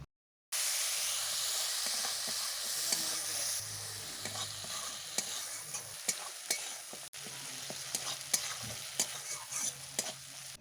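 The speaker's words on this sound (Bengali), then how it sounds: "মশলা খুব ভালোভাবে আমার কষানো হয়ে গেছে, মশলা থেকে তেল ছেড়েছে" Mustard and cumin spice paste fries steadily in oil in a pan, a continuous close sizzle with scattered sharp crackles and occasional spoon scrapes as the paste is stirred and cooked down, alone without voices.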